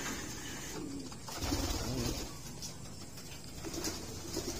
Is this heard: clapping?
no